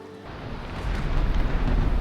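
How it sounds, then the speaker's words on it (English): Rain falling in the Valheim video game, a broadband wash of steady rainfall that swells from quieter to louder over a couple of seconds, heard alone without any talk. "It is raining, and this seems like a good time for me to start patching the roof"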